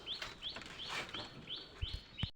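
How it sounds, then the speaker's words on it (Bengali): Pigeons inside their coop, with repeated short chirping calls at a steady rhythm, heard fairly close, plus a few soft low thumps near the end. "এই যে আমাদের কবুতর সব বসে আছে ভিতরে, ঘরের ভিতরে"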